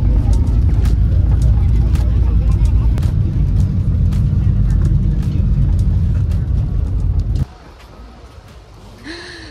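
Bus rumbling along the road up to Machu Picchu, a loud continuous low engine and road drone with intermittent knocks and rattles, cutting off abruptly near the end to a quieter interior.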